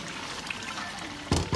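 Water is poured into beef kofta curry gravy in a pot, giving a steady, soft pouring wash that ends with a brief, louder splash.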